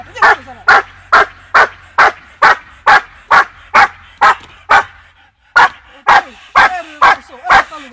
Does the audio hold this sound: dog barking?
yes